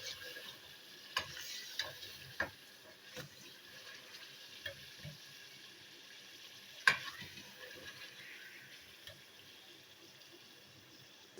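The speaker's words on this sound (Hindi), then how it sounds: "ये कितनी अच्छी तरह से भुन रहा है" Mutton and spinach with ground green chili fry quietly in a pot, a low sizzle with scattered sharp knocks and scrapes of stirring.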